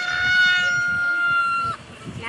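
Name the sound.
rooster crowing in a video game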